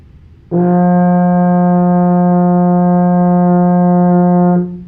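A baritone horn holds one steady brass note, F, for roughly four seconds, clear and unaccompanied, then releases.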